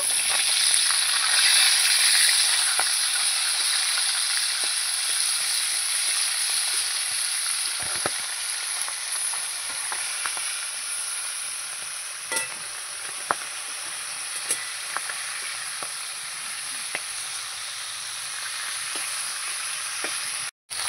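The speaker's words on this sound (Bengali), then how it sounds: "মাছগুলো আমার ভাজা হয়ে গেছে, তুলে নেব।" Rohu fish frying in oil in a wok, a steady close hiss and sizzle throughout with scattered crackles and faint scraping or stirring taps, no voices.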